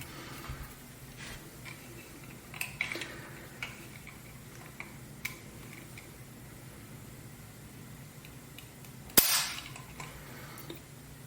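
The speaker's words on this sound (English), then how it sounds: "Now I can show you the trigger pull on my pistol." Several sharp, faint clicks from dry-firing a Dan Wesson DWX pistol with a couple thousand rounds through it, spaced irregularly over a quiet background, with one louder snap near the end.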